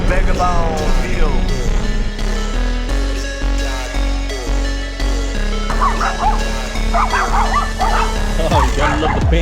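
Panamanian puppies near BayFront Tower in Panama City bark, yip and whimper loudly and close by in a noisy neighborhood, a continuous run of overlapping high cries and barks.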